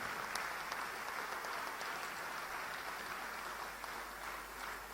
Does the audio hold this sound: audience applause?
yes